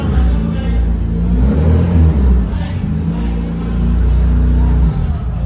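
A modified BMW G310R motorcycle engine revs with a loud, steady low rumble and rising throttle swells, close by, with people talking over it.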